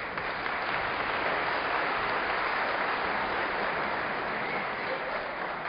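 A crowd applauds steadily at a prefect's swearing-in ceremony in Pastaza, a dense, even clapping that holds at the same level throughout.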